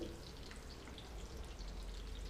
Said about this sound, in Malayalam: ഒരു മീഡിയം ഫ്ലെയിമിലിട്ടിട്ട് നമുക്കിതാ വറുത്ത് കോരാം